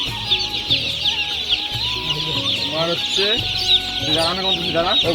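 Newly delivered poultry farm chicks, some 3180 birds, keep up a loud constant cheeping chorus, while someone talks briefly close by over the din.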